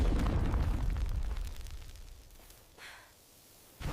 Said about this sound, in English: The blast shook the whole mountain.